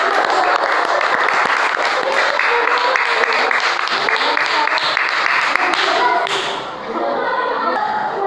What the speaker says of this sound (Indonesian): sudah tepuk tangan untuk Mona